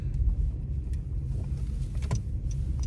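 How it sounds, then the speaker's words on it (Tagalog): A road vehicle goes by with a low, rumbling engine and tire noise, fairly close and steady, with a few faint clicks and rattles on top. "May sasakyan."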